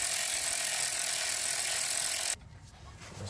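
A ratchet wrench loosens bolts during clutch replacement on a 2018 Subaru WRX: steady, close, continuous clicking of the pawl for about two seconds, then it stops and only low background noise remains.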